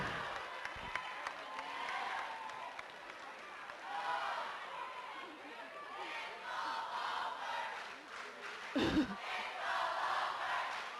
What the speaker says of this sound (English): Chants from the crowd saying it's all over